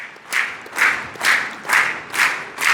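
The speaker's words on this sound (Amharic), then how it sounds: "አጨብጭቡላችሁ ለሁሉ።" An audience claps rhythmically at a celebration evening, with steady, even bursts of applause repeating about twice a second, fairly close and with no talk over it.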